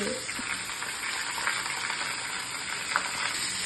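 Vegetables fry with mustard seeds, dried chillies and curry leaves in a hot pan, giving a loud, steady, close sizzle with a few faint stirring scrapes and no talk.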